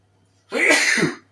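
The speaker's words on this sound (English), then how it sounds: "I sneezed behind me" A single sharp, explosive sneeze close up, bursting out of near silence and fading within a second.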